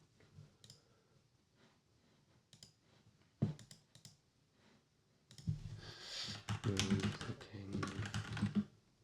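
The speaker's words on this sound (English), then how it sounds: "Clicking." Clicks and keystrokes on a computer keyboard during desktop troubleshooting, sparse taps at first, then a dense, louder burst of rapid typing near the end.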